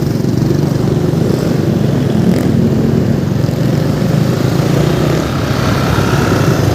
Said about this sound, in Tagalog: Dito din pala lumilipad yung jet fighter.